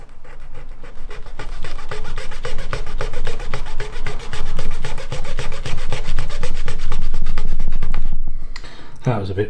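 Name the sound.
sanding with a coarse sanding stick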